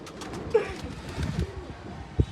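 A pigeon coos in short, low murmurs, with a louder soft burst near the end, under rustling and light background talk.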